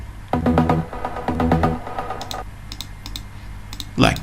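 Noise oscillator from a trance synth pluck, layered under short chord stabs, with airy hissy bursts trailing off and a brighter swell of noise at the close.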